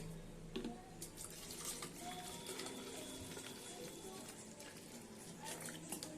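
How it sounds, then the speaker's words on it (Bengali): Cold water pours for a drink made with glucose powder, a faint, continuous trickling splash heard close up with small drips and clinks, fairly quiet throughout. "প্রথমে আমরা নিব হচ্ছে ঠান্ডা জল"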